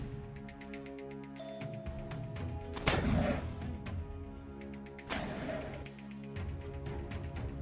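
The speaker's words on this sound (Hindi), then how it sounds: "कुछ लड़ाके एक पेड़ के पीछे छिपकर लगातार रॉकेट फायर करते हुए नजर आ रहे हैं।" Fighters firing rockets repeatedly from behind a tree in the Gaza war near Rafah: two loud, sharp blasts about two seconds apart, each trailing into a rumbling roar over steady background noise.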